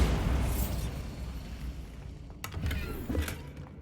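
The Bombarda blasting spell from Hogwarts Legacy goes off as a dull, booming burst that fades away, followed by a few softer sharp impacts.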